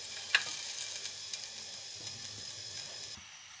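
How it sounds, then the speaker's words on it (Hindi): Masoor dal, red lentils, bubbles in a pot with a soft, steady sizzling simmer, faint and close, with a few small pops early on before it quiets. "अब ये देखिए ये बॉईल हो गई है।"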